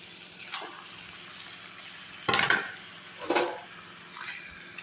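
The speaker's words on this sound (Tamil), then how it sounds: "நல்லா கிண்டி விட்டுடலாங்க" Chicken masala for a Chettinad-style chicken and horse-gram-greens thokku being stirred in a pan: a few separate scraping, sloshing strokes over a quiet background.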